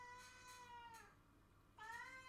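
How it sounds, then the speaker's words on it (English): A house cat meows twice, two drawn-out, wavering cries separated by a brief pause, faint and at some distance from the microphone. "sorry, my cat's making noises"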